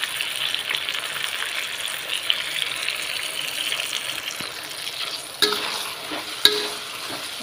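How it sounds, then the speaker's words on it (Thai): Meatballs and young chili stir-fried in a pan make a soft continuous sizzle, with occasional scraping and clinks of the utensil against the pan, close and moderately loud. "เราก็ผัดนะคะ"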